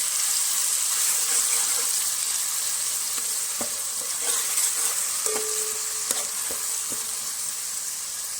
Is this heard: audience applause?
no